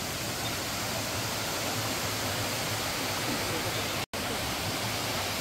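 Waterfall water pours in a steady, dense broadband roar, close and loud, holding constant apart from one abrupt momentary dropout near the end.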